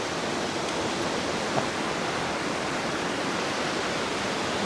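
Mountain river water rushing in a steady, dense broadband roar that stays constant and fairly loud throughout, like a nearby fast-flowing stream, with no voices heard.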